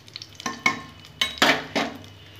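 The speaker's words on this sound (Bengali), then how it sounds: "ফোড়নটা আমি ভেজে নেব" Tempering spices fry in oil in a pan for a mixed vegetable dish, several short bursts of sizzle and stirring scrapes rising and fading, close with quiet gaps between them.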